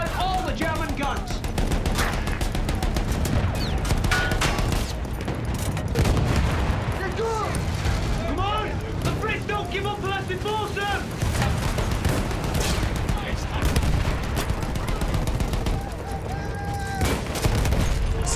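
Dense, continuous gunfire and explosions from a World War I battle in Battlefield 1, with rapid rifle and machine-gun bursts and booms layered throughout at steady, loud intensity, with shouted voices mixed in.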